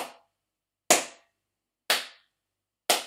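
Hands clap along to a song, four crisp, close claps spaced about a second apart in an even beat, each standing alone against silence.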